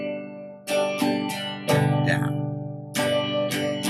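Guitar strummed in a pattern of two downstrokes, two upstrokes and an extra downstroke, with bright, ringing chords in distinct rhythmic bursts, played alone and close.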